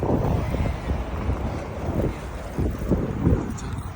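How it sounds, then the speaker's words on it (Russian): Cold wind blows outdoors in a city, buffeting the microphone in continuous low rumbling gusts that swell and ease over a few seconds. "Холодно, ветер."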